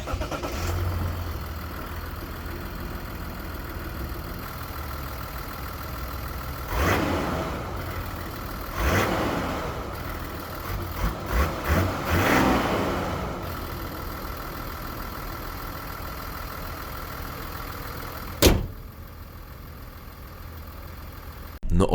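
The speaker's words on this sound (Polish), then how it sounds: "jak pięknie brzmi ten diesel" A Mazda CX-80 with the 3.3-litre six-cylinder e-SKYACTIV D diesel starts and idles, then gives several short rising revs in a row, followed by a sharp blip near the end, heard fairly close with a steady low hum between.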